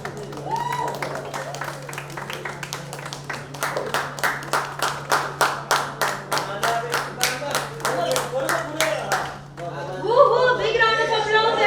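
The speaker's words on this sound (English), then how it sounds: "Big round of applause, everyone!" Rhythmic applause rises at a product launch event's grand unveiling, steady clapping building over several seconds before breaking into a burst of cheering and crowd chatter.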